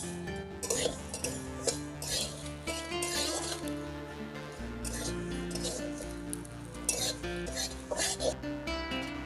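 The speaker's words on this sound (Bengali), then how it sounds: "প্রথমে ধনে আমি ভেজে নেব।" Coriander seeds being dry-roasted without oil in a pan for green mango pickle, with repeated light scraping and rattling of a spatula on the metal over a steady low hum, close and fairly quiet.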